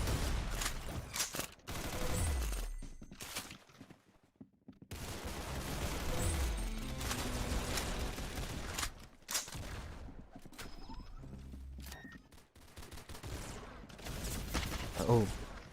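Gunfire bursts from a video game, rapid volleys and single shots in loud, dense clusters amid game effects, with quieter gaps between bursts.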